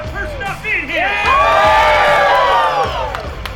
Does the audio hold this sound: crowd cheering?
yes